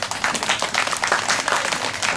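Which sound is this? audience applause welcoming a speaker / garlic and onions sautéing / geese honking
audience applause welcoming a speaker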